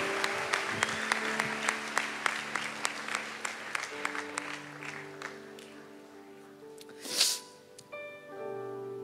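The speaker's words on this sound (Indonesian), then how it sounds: "Sekali lagi berikan tepuk tangan buat Oslin." Audience applause at a church worship gathering, a steady patter of many hands clapping with sharp peaks, then fading away as the clip ends.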